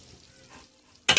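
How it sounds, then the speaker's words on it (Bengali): A spice and poppy-seed paste hits a hot wok with a sudden loud sizzle at the very end, after a quiet stretch of faint kitchen noise. "এবার আমি কড়াইয়ে মিক্সিটা পুরোটাই দিয়ে দেবো।"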